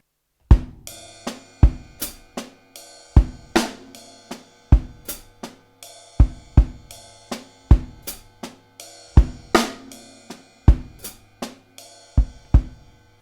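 A drum kit plays a linear 4/4 groove, with ride cymbal strokes in the right hand and left-foot hi-hat. Clear, evenly spaced hits ring out close and alone, with no talk.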